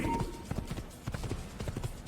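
A horse's hooves clop on the ground in a rapid, uneven gallop rhythm, mid-loud and continuous, in the game Assassin's Creed on Xbox One X, with a brief tonal sound at the start.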